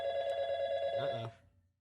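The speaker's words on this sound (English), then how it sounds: "were you expecting a phone call?" A telephone rings during a radio interview show, a steady electronic ringing tone that cuts off after about a second and a quarter and fades out, with faint voices underneath.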